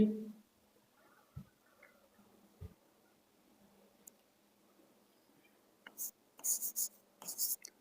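Marker or chalk writing on a board in a Class 12 biology lesson, a quiet scratching that ends in a run of louder, quick strokes and taps. A faint murmur of voices sits underneath.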